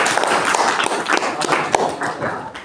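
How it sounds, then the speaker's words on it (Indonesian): A classroom of students applauding a classmate, a short burst of close, loud, fairly dense clapping lasting a few seconds. "tepuk tangan buat Kalista"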